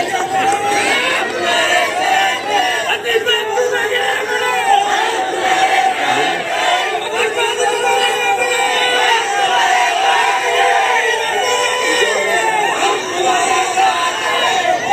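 A dense, loud crowd at a Nationalist Congress Party political rally shouts, whoops and cheers continuously, with overlapping voices filling the whole stretch.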